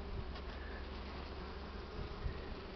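Honey bees buzzing at a hive during a mite treatment, a dense continuous drone heard close and steady without talk.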